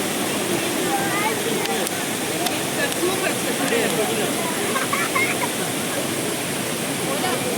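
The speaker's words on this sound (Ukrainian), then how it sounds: "разом послухаємо, як шумить вода у водоспаді" Rushing water from the Shypit waterfall in western Ukraine roars continuously and loudly, a dense, unbroken hiss and churn close by, with faint voices blending into the noise.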